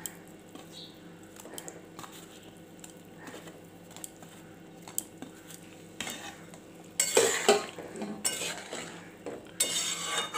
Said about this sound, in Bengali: আমি এর ভিতরে এখন বলসগুলো দিয়ে দেব।